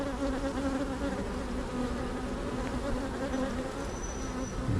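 Honey bees buzz steadily around an open hive, a dense close hum of many wings with no talking.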